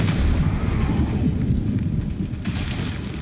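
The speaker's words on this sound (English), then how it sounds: "explosion." An explosion in the video game Eternal Strands: a loud, dense rumbling boom that fills the whole clip and fades only slightly toward the end.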